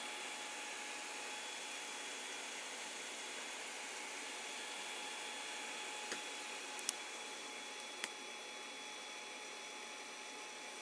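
A 3D printer laying down PLA with the nozzle at 215, the bed at 60 and the part cooling fan at full speed gives a steady broadband fan whir with a faint motor tone, plus a few brief clicks, with no voices.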